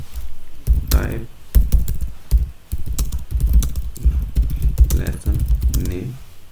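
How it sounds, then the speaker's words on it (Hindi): Typing on a computer keyboard while creating a new typing lesson and entering its name, a dense run of clicking keystrokes in bursts with short pauses, heard under someone speaking. "जो भी हमने टाइप लेसन का एक नाम टाइप किया"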